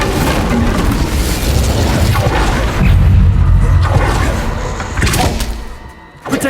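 Fire spell cast in Hogwarts Legacy, a dense booming whoosh of magical combat that swells and holds, with layered impacts and sweeping bursts throughout, loud and close amid busy game effects.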